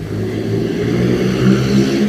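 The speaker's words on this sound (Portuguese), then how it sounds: "Olha o motoqueiro do inferno aí de novo" A motorcycle runs on a street, its mid-pitched engine droning steadily and fairly loud for the whole moment, with a slight swell near the middle as it goes by.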